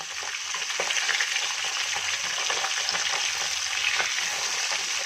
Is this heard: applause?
no